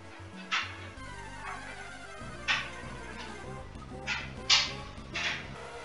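Electrike's cry in Pokémon Sapphire repeats as several short electronic yelping barks over chiptune game music, the cries separate and spaced out.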